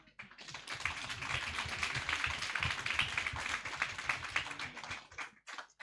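Teams at a national inter-university constitutional law moot court competition receive a round of audience clapping, a dense, fairly soft patter of many hands that builds quickly and fades out after about five seconds.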